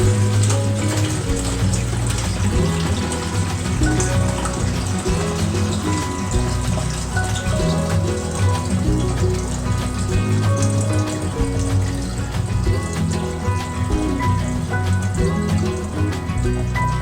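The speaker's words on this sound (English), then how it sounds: "now you just want to pour a little bit at a time" Continuous splashing and trickling of fire cider being poured through a strainer, steady and close, with no voices.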